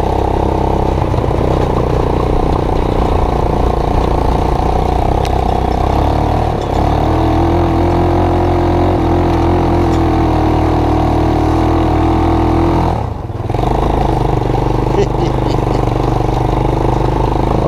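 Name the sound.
ATV golf cart hybrid engine doing donuts in third gear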